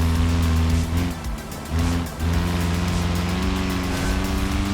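A car in BeamNG drives with a steady, loud engine drone that dips briefly twice, as if lifting off the throttle, then holds a constant pitch on a single gear, with no voices.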